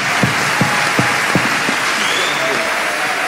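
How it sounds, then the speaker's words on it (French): An audience applauding at a French-language speech event, with scattered sharp claps over a steady crowd din that lasts throughout. "Marcus Mosiah Garvey, que je vous demande d'applaudir fortement s'il vous plaît."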